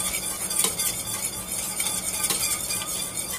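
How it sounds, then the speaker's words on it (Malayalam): A spoon stirs vanilla powder into homemade butterscotch ice cream mix in a bowl, giving steady close scraping and light clinks throughout, with no talking. "എന്നിട്ട് ഇതിനെ ഒന്ന് ഇളക്കി കൊടുക്കുക."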